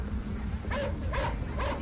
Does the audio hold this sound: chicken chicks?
no